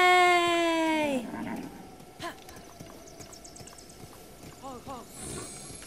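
Within Zelda: Breath of the Wild, a horse gives a loud whinny at the start, followed by softer hoofbeats and light game sounds against a steady background hum.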